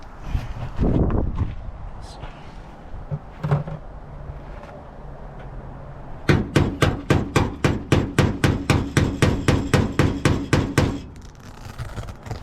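A hammer taps on the body metal of a classic Ford F100, first a few scattered knocks and handling noises, then a fast, even run of about twenty sharp close strikes that stops abruptly.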